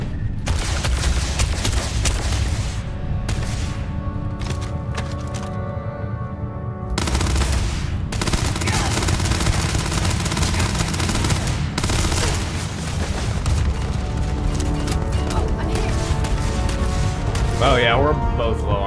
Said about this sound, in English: Wow, so many of those shots missed.